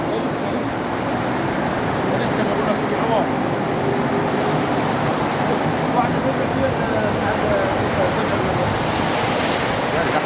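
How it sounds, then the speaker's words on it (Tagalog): Continuous rushing floodwater churns and splashes like surf breaking at sea, loud and close, with wind noise, after rain in Saudi Arabia. "May palo ng tubig. Yan, para mo nasa dagat."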